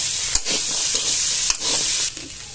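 A mixture for chole sabzi is stirred and roasted in a pan, giving a loud, close, continuous sizzle broken by a few scraping stir strokes, with no voices.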